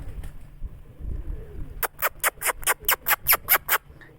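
A female pigeon takes flight and lands, giving a quick run of about ten sharp, evenly spaced wing claps close by after a quieter start, with no voices.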